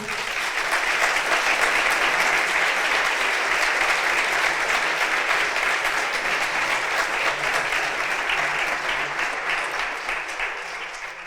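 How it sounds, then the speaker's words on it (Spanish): An audience applauds the speakers at a Spanish-language panel on digital money and its political reach: dense, steady clapping that stays loud and even for about eleven seconds, easing only slightly at the end. "Me gustaría que les diéramos un fuertísimo aplauso."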